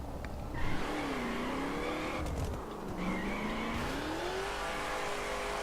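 A car in The Crew driving in reverse, its engine holding a steady whining drone that slowly rises and falls in pitch, with faint tire noise underneath and no talking.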